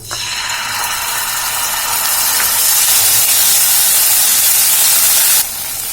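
Spoonful of ginger garlic paste dropped into hot oil in a pan, bursting into a loud, steady sizzle and hiss that holds for several seconds before easing slightly, with no talking.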